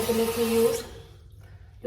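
Warm tap water runs and splashes during a face rinse, a close broadband rush for under a second that cuts off, leaving quiet room tone with a faint touch at the end.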